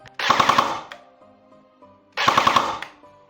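An airsoft gun fitted with an optical MOSFET in a V3 gearbox fires two quick four-round bursts, each a tight rattling volley of mechanical clacks, close and loud, separated by a short pause with faint whirring.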